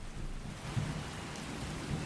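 Steady rain and rolling thunder in the Skyrim video game, forming a continuous low rumbling wash with soft pattering throughout, moderately loud and with no voices.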